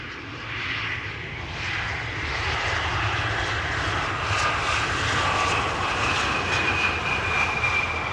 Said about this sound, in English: Embraer 175 in KLM fashion, keeping up the speed, staying on the runway